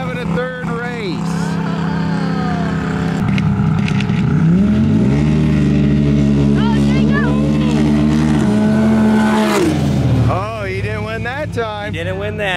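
A Stage 6 Pro XP side-by-side and a Can-Am race down a drag strip, their loud engines revving up and holding high, rising and falling in pitch as they accelerate, with people talking throughout.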